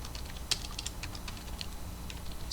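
Code is typed on a computer keyboard in quick, irregular bursts of light clicking keystrokes, close and soft, with no voice over it.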